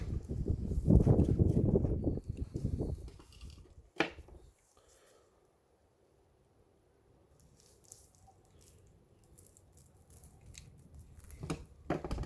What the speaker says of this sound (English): Try to only cut the rhizome without cutting the roots below.